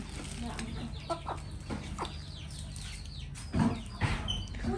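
Chickens clucking close by in a rural Thai setting, short scattered calls and a few louder squawks near the end, mixed with people chatting.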